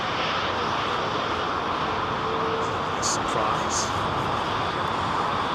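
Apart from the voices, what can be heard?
Thai Airways Boeing 777 airliner pushing back to depart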